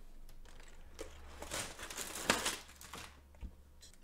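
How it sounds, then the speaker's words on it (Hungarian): Plastic bags from a LEGO City 60345 set being handled and opened, soft crinkling and rustling in bursts with a sharper crackle near the middle, close and quiet, no talking. "bontsuk ki ezt a készletet"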